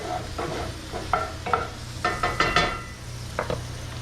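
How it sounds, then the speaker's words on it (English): Beans simmer beside tortillas cooking on a griddle, a low steady sizzle under repeated close clinks and scrapes of a utensil against cookware, no speech. "beans cooking down, tortillas on the griddle"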